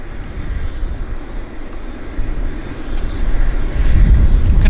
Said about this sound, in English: the Air Canada 777 is taxiing quite quickly